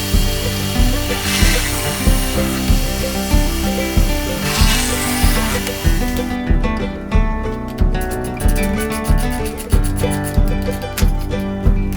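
Power drill whirring in repeated short pulses as it drives pocket screws into wooden leg braces of a portable table, a steady rhythmic buzz close by, with brief higher bursts and a hissing spray-like sound at moments.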